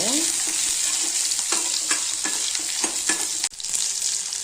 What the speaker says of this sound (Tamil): அப்புறம் இஞ்சி பூண்டு நல்லா வதக்கிக்கலாங்க